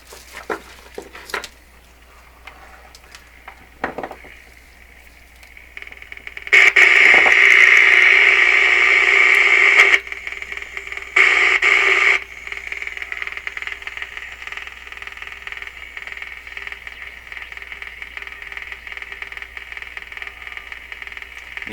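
Deforest 10DA517 vintage AM radio receiving through a loop antenna, mostly crackly static and faint hum with bursts of a louder steady carrier tone, close and without speech.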